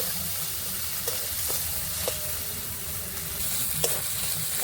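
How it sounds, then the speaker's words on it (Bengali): Turmeric and chili powder masala fries in hot oil with a steady close sizzle, broken by a few sharp clicks and scrapes of a spoon stirring through the pan. "মশলাটা একটু ভেজে নেব"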